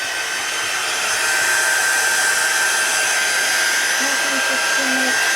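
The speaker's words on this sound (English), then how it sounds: "Your heat tool isn't as loud. I feel like mine is so much louder." A steady, loud whooshing roar of a craft heat tool blowing hot air continuously up close, with faint voices murmuring underneath.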